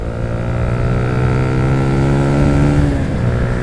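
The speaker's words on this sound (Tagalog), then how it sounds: "Tapos, magda-downshift ako to third gear. Rev match." A loud, steady car engine drone with strong harmonics that shifts pitch partway through as it rev-matches a downshift to third gear, rising briefly before settling, with no voices.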